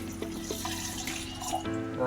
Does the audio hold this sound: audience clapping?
no